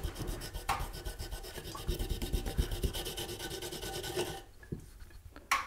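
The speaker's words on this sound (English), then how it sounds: "I have a fiberglass brush which works very nicely" A fiberglass brush scrubs hard over an enamel surface, giving a loud, rapid rhythmic rasping of short strokes that stops near the end.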